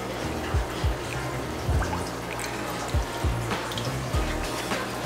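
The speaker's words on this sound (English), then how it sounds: "Get some more water in here." Water trickles and splashes into a fish tank in short irregular bursts, with soft gurgles and drips close by and no talking.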